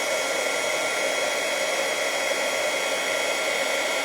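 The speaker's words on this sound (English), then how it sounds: "so I'll bring in my heat embossing gun" Heat embossing gun blowing hot air over a handmade card, a steady, loud, close whooshing hiss that holds unchanged from start to finish with no voices.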